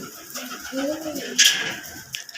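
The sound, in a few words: pigeons cooing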